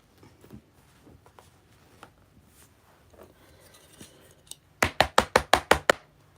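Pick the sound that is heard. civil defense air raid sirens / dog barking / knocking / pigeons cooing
knocking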